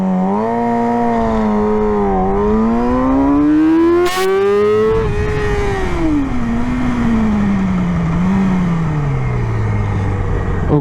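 A 2009 Yamaha YZF R6 motorcycle accelerates hard in a 0-100 km/h run. The engine is loud and close, its whine climbing steadily in pitch and dropping back at each gear change.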